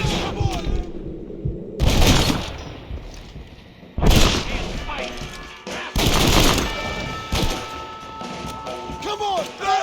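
Bursts of gunfire from Red Dead Redemption ring out in repeated loud volleys, heavy booming shots arriving in clusters around 2, 4 and 6 seconds, with lighter shots and game sound filling the gaps between them.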